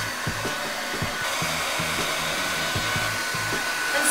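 A hair dryer fitted with a diffuser runs steadily while drying curly hair, a constant close whir lasting throughout with faint soft thumps as the hair is scrunched.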